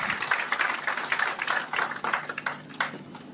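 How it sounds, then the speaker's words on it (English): Applause from the audience at the launch of the flagship Sky Limit clinic: a fairly faint patter of many hands clapping at middle distance, thinning out and tapering off toward the end. "let's give a big, big round of applause to Mr. Harish Mehta, founder of Sky Limit."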